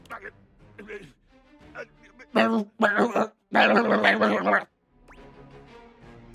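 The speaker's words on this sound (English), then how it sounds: "Jack makes a strange noise, almost akin to a growl" A gruff, strange growl from Jack, a character in the video game Date Everything, comes as a few loud, harsh bursts in the middle. Quieter game speech comes before and after it.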